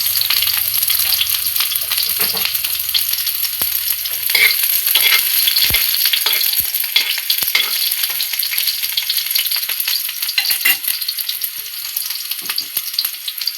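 Chopped onion and garlic frying in hot oil, a steady broad sizzle throughout with occasional sharp crackles and pops, close and loud, no voices.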